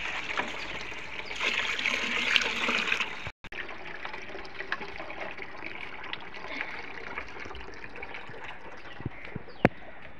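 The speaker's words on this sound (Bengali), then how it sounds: "দেখো বন্ধুরা আমি কেমন করে গাছে জল দিচ্ছি।" Water poured over a guava tree and marigold plants outdoors on a foggy morning, a steady close trickle and splash that briefly cuts out partway through, with no talking.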